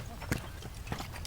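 A horse in the Arboretum game, its hooves clip-clopping in two or three brief knocks over a low, busy background, while people talk nearby.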